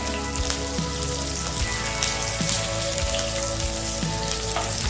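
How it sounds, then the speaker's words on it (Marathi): Curry leaves and a pinch of turmeric sizzle and fry in hot oil in a pan, a steady loud crackling hiss with popping bursts throughout, no talking. "आपण परतून घेणार आहे."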